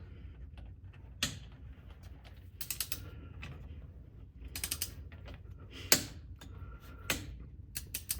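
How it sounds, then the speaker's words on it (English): A torque wrench tightens the transfer case plug on a 2024 Jeep Wrangler, with scattered close ratcheting clicks and sharp metallic ticks spaced irregularly over quiet background noise, and no talking. "And using a torque wrench, you need to torque it down to 21 foot-pounds."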